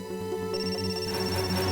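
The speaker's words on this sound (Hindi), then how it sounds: "फोन यहीं कहीं है, घंटी बज रही है।" A phone rings nearby in a repeating electronic ringtone pattern, clear and fairly loud, with no voices over it.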